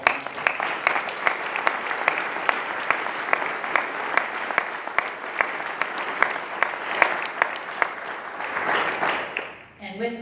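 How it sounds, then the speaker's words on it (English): Audience applause at an afternoon sponsor acknowledgment, steady dense clapping from a crowd that carries on for several seconds and then tapers off, with a voice returning at the end. "So can we give a round of applause to all of our sponsors?"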